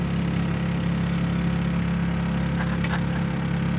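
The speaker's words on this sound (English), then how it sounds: "That is the sound of our generator that we had to put on" A generator runs aboard a boat on the Intracoastal Waterway, a steady, loud mid-to-low engine drone holding constant throughout, with a couple of faint brief higher clicks near the end and no voices.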